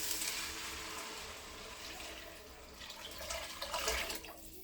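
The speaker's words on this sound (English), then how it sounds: "I filled this with water." Tap water runs steadily into a container at a home kitchen sink, a continuous splashing rush that rises briefly near the end, close and alone with no talk.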